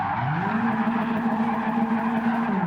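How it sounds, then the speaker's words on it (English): A car in Gran Turismo 7 spins controlled small donuts in first gear, its engine droning steadily at high revs with a continuous tire squeal, loud and close throughout, no talk. "spin the car over and just try and do some small donuts. Just controlled donuts"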